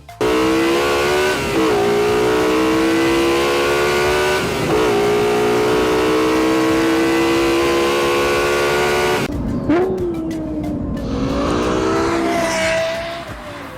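A high-revving Lexus LFA supercar engine screams loud and steady, its pitch climbing gradually, then shifts and drops near the end with crackling pops.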